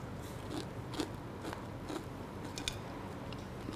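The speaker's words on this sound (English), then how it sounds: "You can hear my sound of, you know, that crunchiness. These are so nice and crunchy." Someone bites into crisp bitter gourd chips, about half a dozen quiet crunches at a roughly regular pace over a soft, hissy background, with no speech.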